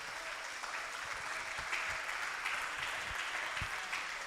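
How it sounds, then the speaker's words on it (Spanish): A church congregation applauds the Lord, producing sustained dense clapping from many people at a moderate, even level, with a few sharper individual claps standing out. "Dale un aplauso al Señor entonces."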